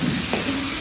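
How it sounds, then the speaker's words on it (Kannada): Ginger garlic paste frying in a pan, a steady close sizzle with one quick scraping stir partway through. "ಅದನ್ನ ಹಾಕಿ ನೀಟಾಗಿ ಹಸಿ ವಾಸನೆ ಹೋಗೋ ಥರ ಫ್ರೈ ಮಾಡ್ಕೊಳ್ಳಿ"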